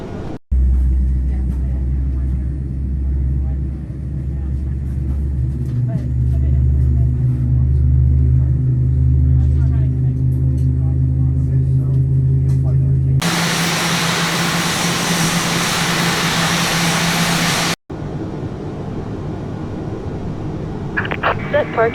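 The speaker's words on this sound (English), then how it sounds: "Alright, so we'll start engine 2 now" A Boeing 787's number two engine spooling up in Microsoft Flight Simulator: a steady low mechanical rumble that gives way to a loud, broad roaring rush, then cuts off abruptly before a quieter stretch.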